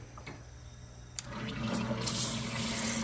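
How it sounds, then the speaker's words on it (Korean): Water pours steadily from a large shower-head sprayer onto potted plants, starting after a short pause and building into a continuous broad spray that fills the remaining stretch, fairly close with no talking. "지금 물을 줍니다."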